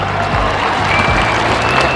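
A crowd claps steadily and fairly loudly for a parachute jump master after his landing at a Kenya Defence Forces air show at Uhuru Gardens, Nairobi, a broad wash of applause over open-air noise.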